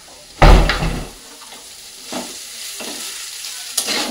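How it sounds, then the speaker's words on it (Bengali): Boiled chowmein hits a pan of fried vegetables with a loud burst of sizzling, then settles into softer frying broken by a few scraping stirs and a clack, close up with no voices. "এটা ভালো করে সবজির সাথে একটু ভাজা করে দেবো"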